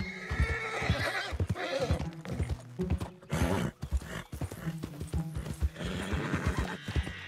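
Horse hooves clip-clop in a steady rhythm with whinnies and neighs in Red Dead Redemption 2 gameplay, loud and close, over a continuous game soundscape.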